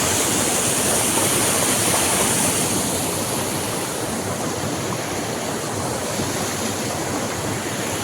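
Loud, continuous rushing river water fills the scene, a dense roar of flowing current with no pauses or voices.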